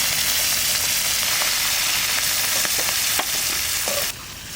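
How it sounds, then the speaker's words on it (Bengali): Hilsa fish and taro frying in mustard oil in a pan, giving a loud, dense, steady sizzle with faint stirring ticks. It drops noticeably quieter near the end. "হালকা ভেজে নেব।"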